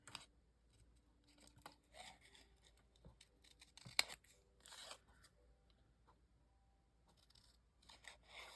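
Scissors snip through cardboard while cutting out a piece for a Christmas advent box, a close series of short, irregular crisp cuts with quiet pauses between them and no talking.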